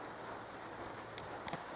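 Light rain patters softly at a campsite, a faint steady hiss with a few scattered drops tapping nearby.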